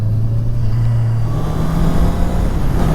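Honda CB650R four-cylinder motorcycle engine running steadily up close, a loud, continuous mid-pitched hum and rumble with a slight rise in revs toward the end, no talk.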